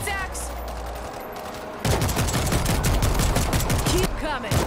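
Machine gun fire in the World War Z video game, a dense, sustained rattle of automatic gunfire that starts about halfway through and continues to the end, loud and close, mixed with other game noise.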